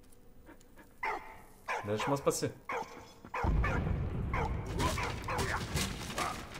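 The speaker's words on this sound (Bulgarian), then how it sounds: "Готино кученце." Dog barks and yips from the Valiant Hearts video game, scattered in short bursts under a man's Bulgarian chatter, followed by a denser loud stretch of game noise near the end.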